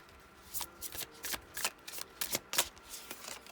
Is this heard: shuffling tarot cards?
yes